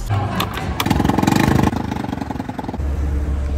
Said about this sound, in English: This is the scooter that has been taking me around Miami